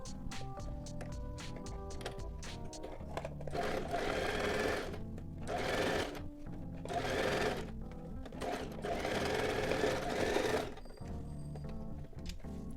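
A home sewing machine stitches the neckline of a kurti in several fast, whirring bursts, each a few seconds long, close and clear with short pauses between runs.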